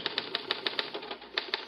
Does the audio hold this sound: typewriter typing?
yes